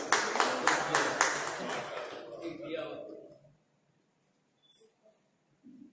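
Applause from a seated audience at an Independence Day poetry gathering, welcoming a renowned poet to the stage; several seconds of brisk, fairly close clapping that fades out into near silence.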